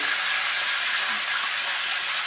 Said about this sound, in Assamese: এতিয়া আমি মাংস পেলাই দিম কেৰাহীত